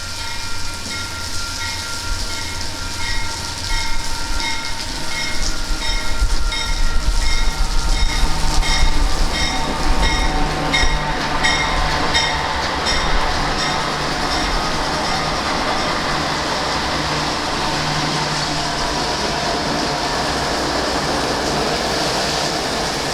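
A heavy freight train, heard inside a solidly built station, rumbles past nearby, a steady broadband roar with faint metallic whines and clatter that swells and then holds for a long stretch.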